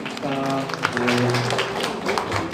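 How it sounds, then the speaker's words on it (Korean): A congregation at a Korean church service claps together in sustained, dense applause lasting a few seconds, with a low musical tone underneath. "하나님께 감사와 찬양과 영광의 박수 올려드립니다"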